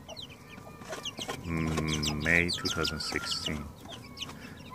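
Young chickens about a month old, including a couple of roosters, cluck and call on a homestead farm, a burst of louder clucking rising in the middle, with someone talking briefly.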